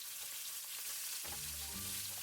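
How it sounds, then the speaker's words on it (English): Lemongrass beef skewers frying in vegetable oil in a pan, a steady close hiss of sizzling with a louder crackling burst partway through, no voices. "Add 1 tablespoon of vegetable oil for cooking the remaining half of the skewers."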